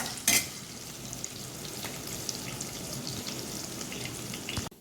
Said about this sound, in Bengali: আগে আলুটা একটু ভেজে নেবো